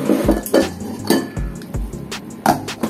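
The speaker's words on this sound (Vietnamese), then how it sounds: "Chúng ta sẽ đậy vào, nấu 3 phút." A lid set onto a pot of Vifon instant noodles, with several close metallic clinks and clatters against the rim in a short burst, loud and near.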